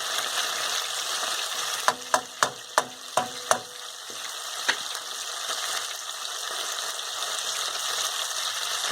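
A pork chop fries in oil in a pan, giving a steady close sizzle with a quick run of six sharp clicks partway through, no voices.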